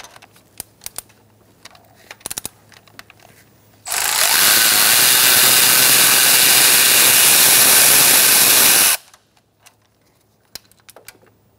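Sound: removing a bolt with an 8mm socket on a Ford Focus valve cover

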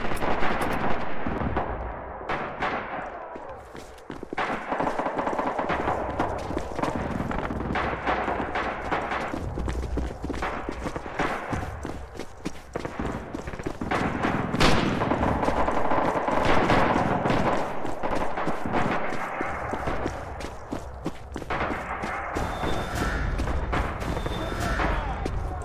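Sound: gunfire in the video game Red Orchestra 2

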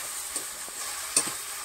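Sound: whole garlic cloves frying in spice masala

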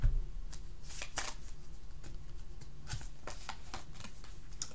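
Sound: shuffling a deck of tarot cards

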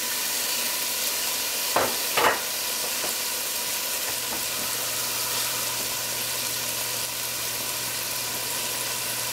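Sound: chopped tomato added to pan, sizzling

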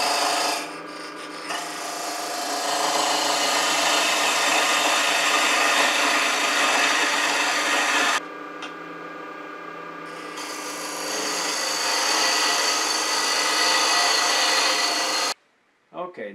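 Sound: peeling cut on holly wood with a lathe tool

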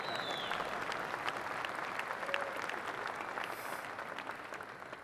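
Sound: audience applause at a conference speech

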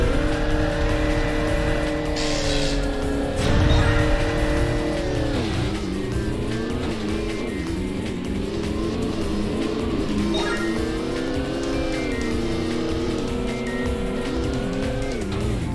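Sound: racing vehicles in the Jet Moto 3 video game

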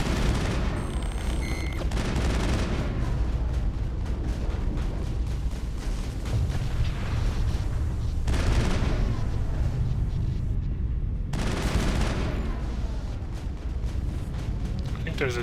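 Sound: gunfire in the video game Mass Effect

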